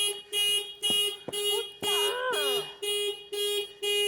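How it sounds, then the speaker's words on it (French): A car alarm blares in a steady pulsing cycle of loud repeated tones, with a warbling sweep in the middle, from a car whose key no longer works, close and continuous. "La clé ne fonctionne plus et l'alarme fait que se déclencher."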